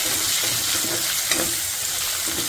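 Onions, curry leaves and green chillies frying in oil for a prawn and gongura curry, giving a steady, close hiss of sizzling that runs without a break, with a few soft stirring knocks and no voices.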